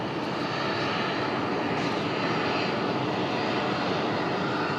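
A United Express ERJ 145 XR regional jet touches down after a short flight from Greensboro, giving a steady, loud broadband jet roar that holds evenly throughout, with no voices.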